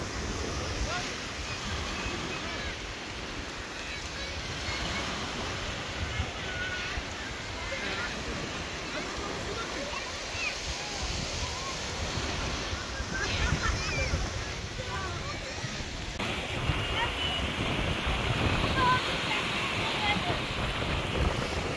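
Sea waves wash continuously onto a beach on Gotland while steady wind buffets the microphone, making a constant, moderately loud roar throughout.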